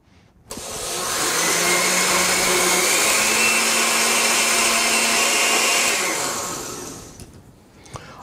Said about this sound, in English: Now I'm going to take my rinsed oats and put them into the blender.